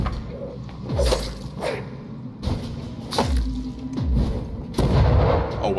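Gunfire in the vampire action game Vampyr, with three heavy booming shots spaced about two seconds apart, loud and close over a rumbling game ambience.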